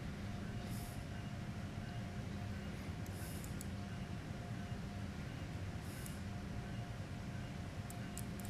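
An Acela high-speed train in Train Sim World 5, running from Boston to Providence, rumbles continuously with steady wheel and cab noise and a few faint high squeals, with no talk.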